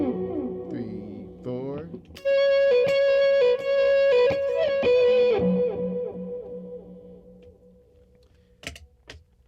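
Lead electric guitar through a fuzz pedal with a volume pedal swelling the notes, playing a sustained riff of repeated bright notes that rings for a few seconds and then fades. A brief pick-noise burst comes near the end, and no one speaks.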